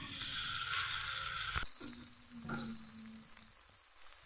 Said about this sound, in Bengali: কাঁচা লঙ্কা কুচি, ভালোভাবে একটু ভেজে নেব। ভালোভাবে ভেজে নিলাম, এবং সিদ্ধ করা আলু দিয়ে দিচ্ছি।